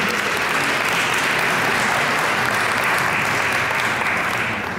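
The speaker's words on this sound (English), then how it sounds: "Another round of applause." Loud, dense applause from an audience at a Jewish American Heritage Month celebration on Capitol Hill, a continuous wash of clapping that holds steady throughout.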